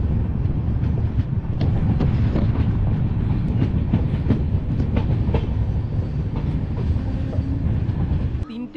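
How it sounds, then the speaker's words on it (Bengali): A Vistadome tourist special train runs on the Alipurduar to Chalsa line through the Dooars, its wheels clattering steadily over the rails under constant rumble and wind noise, loud and continuous until it eases off near the end. "আমাদের ট্রেন আলিপুরদুয়ার জংশন থেকে 45 কিলোমিটার অতিক্রম করে এখন এসে পৌঁছালো মাদারিহাট"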